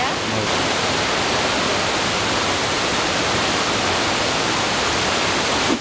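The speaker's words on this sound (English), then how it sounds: "so we finally reached Casaroro Waterfall" Casaroro Waterfall near Dumaguete in the Philippines, a loud, steady broadband roar of falling water filling the whole stretch without a break.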